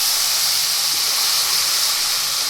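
Chopped green onions sizzling in hot oil with turmeric, asafoetida and curry leaves for a moong curry, a steady bright hiss held close and even for the whole stretch, with no voices.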